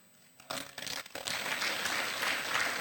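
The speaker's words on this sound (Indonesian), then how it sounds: "Terima kasih ibu-ibu yang tepuk tangan ya" Applause from a church congregation breaks out suddenly and holds steady, a dense wash of many hands clapping together.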